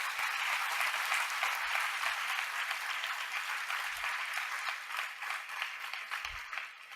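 An audience at a college forum on poverty and inequality in Singapore applauds a returning student with steady, full applause that eases slightly toward the end, with a few low thumps underneath.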